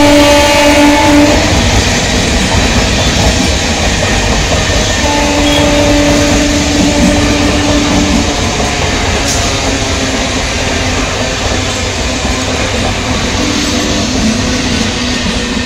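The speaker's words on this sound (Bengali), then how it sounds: "One 622 down Ranaghat Sealdah local Shyamnagar rail station 2 নম্বর প্ল্যাটফর্মে প্রবেশ করলো।" A Ranaghat–Sealdah local train rolls into Shyamnagar railway station, a loud, steady rumble of wheels and carriages close by, with two short horn blasts early on.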